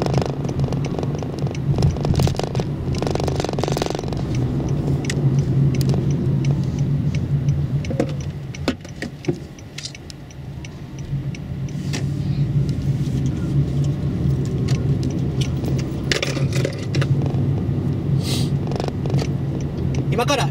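A Honda Shuttle car engine and road noise hum steadily as it drives and accelerates, a continuous low rumble with a swell partway through, while someone talks over it throughout.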